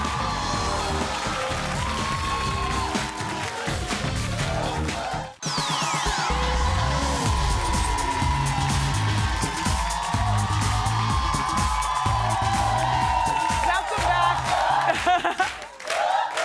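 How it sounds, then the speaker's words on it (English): A large studio audience claps and cheers loudly, with whoops and upbeat music running underneath throughout. "Clap it up for Morris."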